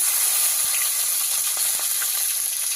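Black cumin seeds and green chillies sizzle in hot oil during a village-style tempering, giving a loud, steady hiss with faint crackles and pops throughout.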